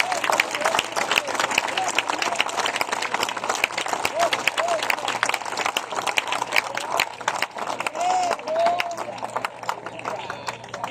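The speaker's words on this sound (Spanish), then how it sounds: "Denle un fuerte aplauso al Señor" A church congregation applauds for the Lord at an evening service, dense sustained clapping running steadily throughout with a few voices calling out above it.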